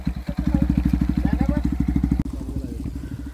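A motorcycle engine thumps in a steady, close rhythm as the bike rides down an embankment, with brief faint voices over it and a slight change in the engine note partway through.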